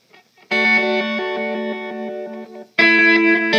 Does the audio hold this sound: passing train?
no